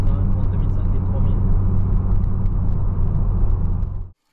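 Turbocharged BMW E36 318is engine droning with a steady, loud, low rumble as boost builds, then cutting off abruptly near the end, with a voice speaking over it.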